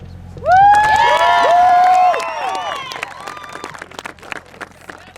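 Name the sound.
crowd cheering and applauding the U.S. Army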